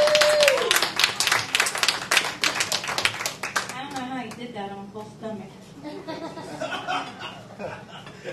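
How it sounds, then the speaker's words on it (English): Church showcase audience clapping loudly and steadily at first, then thinning into scattered claps mixed with chuckles and voices as the applause fades. "big round of applause, all right?"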